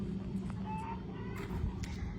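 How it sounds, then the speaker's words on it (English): Chickens in panic cluck and squawk agitatedly in short bursts over a low rumbling background in a high desert garden, fairly distant and faint, with no talking. "The chickens are still in panic mode."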